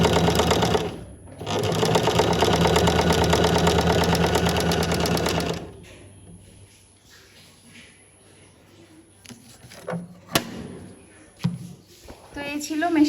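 A freshly oiled Singer SM024 sewing machine runs in a steady, fast, even clatter for several seconds, then stops, leaving quiet handling clicks and a few brief knocks.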